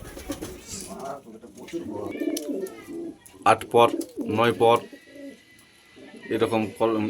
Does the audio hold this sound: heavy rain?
no